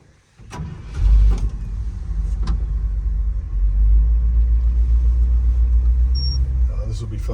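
An old Ford pickup truck engine cranks briefly, catches and fires up, then settles into a loud, deep, steady rumbling idle close by, with a voice faintly present beneath it.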